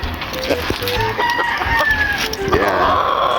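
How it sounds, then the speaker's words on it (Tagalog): A young gamecock stag of a battle cross bloodline crows nearby, its call rising and trailing off among other rooster crows and clucks on a farm, with someone talking faintly in the background. "Malaking manok."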